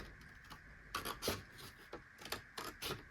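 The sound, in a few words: scissors cutting paper along a fold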